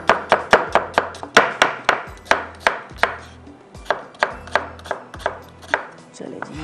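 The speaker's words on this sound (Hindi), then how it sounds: "बिल्कुल बारीक बारीक उसको प्याज को एक जैसे कटिंग कीजिएगा" Onions are chopped finely with a knife on a board for mutton kunna. There is a fast, even series of about twenty crisp, close thuds, loud and alone, with no talking.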